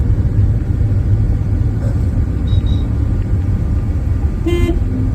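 Inside a moving Tata Nano car, a steady loud road and engine rumble carries through, with a brief horn honk near the end and faint tones earlier.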